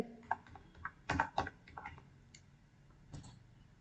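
Keys on a computer keyboard click sparsely and lightly during a basic computer class, as a short word is typed into an online form. The taps are irregular and close, with a few quicker clusters over faint room noise.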